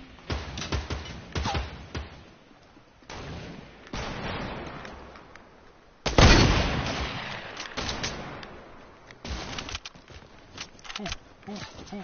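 Gunshots crack out during a video game gunfight in a 50 versus 50 match, with scattered bursts and one loud volley near the middle, mixed with talk throughout.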